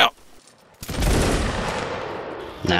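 A musket volley in the Mount and Blade Napoleonic war game erupts as a loud, dense crackle of many shots fired at once, after a short quiet pause, then rolls on and fades.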